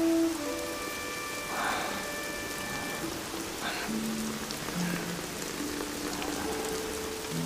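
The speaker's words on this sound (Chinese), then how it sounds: "这大雨天躺在这里" Heavy rain falls in a steady, dense hiss with no breaks, while faint tonal music and a few soft background sounds drift in and out.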